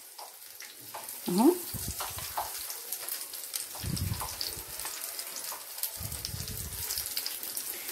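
Oil frying in a pan gives a soft, steady crackle and sizzle with a few low knocks of utensils, and a brief voice speaks over it.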